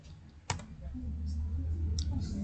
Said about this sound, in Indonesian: Di sini kita akan ketik Ctrl X.